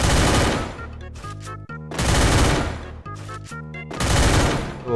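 Rapid gunfire from a shooting video game, three loud bursts of automatic fire separated by brief gaps with ringing tails, close and dominant.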